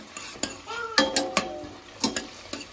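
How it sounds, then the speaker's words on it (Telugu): A ladle clatters and scrapes around a pot of onions and dried chillies, a series of sharp metallic knocks and ringing tones at an uneven stirring rhythm, close and clear with no talk. "ఇట్లా గరిటె తీసుకొని మనం అటు ఇటు కదుపుకోవాలి"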